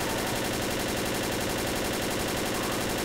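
Continuous Left 4 Dead gunfire, a dense sustained stream of automatic shots blending into a loud, noisy wash with no clear gaps, steady from start to finish.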